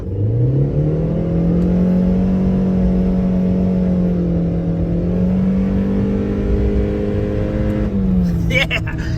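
A supercharged Subaru Pleo accelerating at full throttle, its engine note rising steadily as a loud, smooth climbing drone heard from inside the car, with a brief shift near the end.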